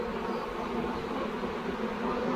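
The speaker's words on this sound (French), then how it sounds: "les abeilles rentrent dans la ruche." Bees buzz steadily and densely at the hive entrance as they return inside, a close, continuous drone with no pauses and no voices.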